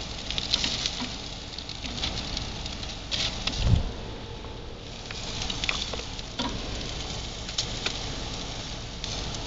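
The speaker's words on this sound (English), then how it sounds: "I'm gonna flip the bacon over a little bit." Bacon frying in a pan beside a cooking burger, a steady close crackling sizzle with fine popping and one brief scrape as it is turned.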